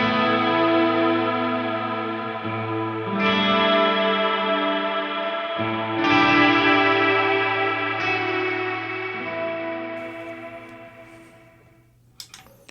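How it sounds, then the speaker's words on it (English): An electric guitar plays clean, sustained chords through a Friedman IR-X amp with a reverb preset, each chord ringing out with a lush tail before the next strike, ending with a few faint clicks. "Now when I have preset 1 selected, everything stayed the same there, and it's brought in my reverb."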